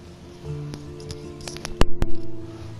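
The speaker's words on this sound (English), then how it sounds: "that's just me fixing my mic" Close, soft handling noises and faint rubbing, then two sharp clicks and a short burst of muffled bumps, like a microphone being fiddled with.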